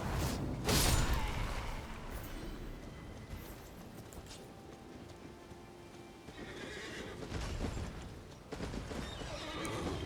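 A horse whinnies loudly near the start in Elden Ring, followed by clip-clopping hooves and mechanical rustles and swishes in a game-like soundscape, with no talking.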